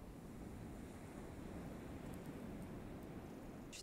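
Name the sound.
ocean waves splashing on sand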